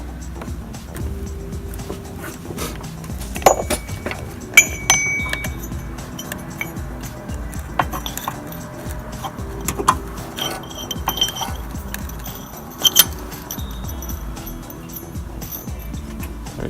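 A pulley is fitted into place by hand, giving scattered light metallic clinks and taps over a steady low background rumble, with a few sharper knocks standing out.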